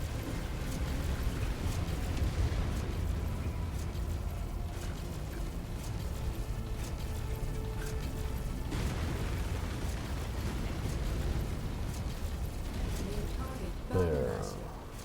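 Mech weapons and explosions in the MechWarrior 5 Mercenaries video game, a constant heavy rumble of fire and booms with a sharper burst near the end, under continuous talk.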